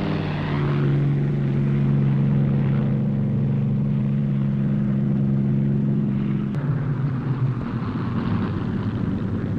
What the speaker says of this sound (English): The pilot opens the throttle to full power.